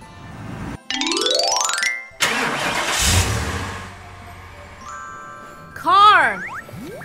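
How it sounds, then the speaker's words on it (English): A taxi car's engine starts and revs with rising tones, then idles steadily, followed by a short squealing, chirping sound near the end. "Taxi."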